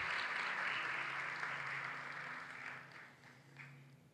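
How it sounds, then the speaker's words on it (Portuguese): A church congregation applauds the Lord together, a steady dense clapping that fills the room, stays loud for about three seconds and then thins and fades toward the end. "Você pode aplaudir o Senhor."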